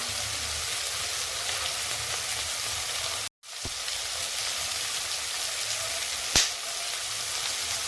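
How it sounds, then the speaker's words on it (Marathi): Pea pulav mixture with curd, turmeric, biryani masala and chilli powder fries in a pan, a steady even sizzle broken by one short gap and a sharp tap near the end. "आणि दोन चमचे दही घालते आता हे आपण चांगलं परतून घेऊ"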